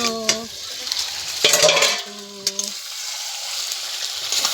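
Spicy chicken sizzles in a pan over a wood-fired stove, a steady frying hiss broken by a few stirring scrapes and clinks of the utensil, with a brief voice in the background.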